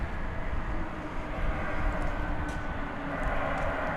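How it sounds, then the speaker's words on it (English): A Boeing 787-9 Dreamliner jet airliner taking off from DFW Airport at night, heard as a steady, broad engine roar that stays loud and even throughout, with no voices. "7879 Dreamliner off to Auckland."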